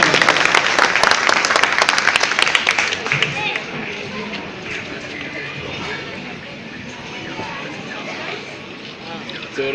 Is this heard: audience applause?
yes